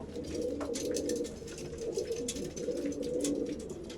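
Pigeons coo softly and continuously, a low burbling chorus from several birds close by, with no talking.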